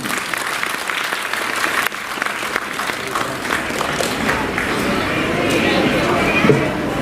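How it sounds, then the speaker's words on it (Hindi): Loud, sustained applause from an audience at a social welfare department event honoring a cabinet minister, steady dense clapping filling the hall. "जोरदार ताली।"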